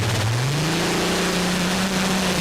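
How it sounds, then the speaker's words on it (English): A Dutch pulling tractor powered by two Rolls-Royce Griffon aero engines, running at a European tractor pulling event at Walibi Flevo, drones loudly and steadily with a deep engine tone that rises in pitch, then holds. "2 Rolls-Royce Griffin engines driving the Dutchman down the arena."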